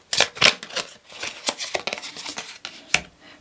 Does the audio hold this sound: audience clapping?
no